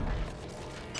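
A short mechanical weapon reload in the mobile shooter Apex Legends Mobile, with a soft ratcheting, clicking rattle that ends in a brighter metallic snap.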